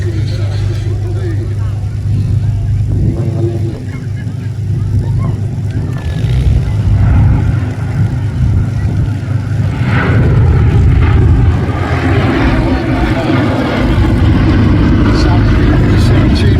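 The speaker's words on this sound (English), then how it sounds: "The last pass for Sally B, as you can see." The B-17 Flying Fortress Sally B makes a pass at the 2023 Battle of Britain air show at Headcorn, its piston engines producing a loud, sustained droning rumble that swells as it flies by, with talk underneath.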